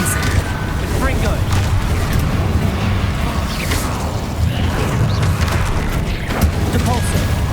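Confringo fire-blast spells in Hogwarts Legacy, a steady wash of booming explosions and crackling impacts layered with game action noise, loud and continuous, with a player's voice over it.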